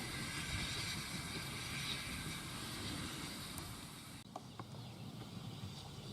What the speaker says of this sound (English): Now here comes the last train of the day